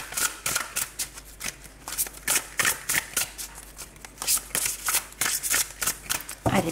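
Tarot cards are shuffled up close for a reading, making a rapid series of crisp riffling and slapping bursts in an uneven rhythm, with no talking.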